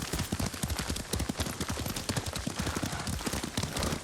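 Hooves of a galloping horse in the samurai video game Ghost of Tsushima, a loud, fast, continuous clip-clop rhythm close by, running steadily throughout.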